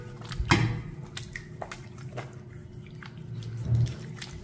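Water splashing as herbal bath powder is washed off the face and neck, with a sharp splash near the start and another near the end, soft wet drips and rinsing in between, close by.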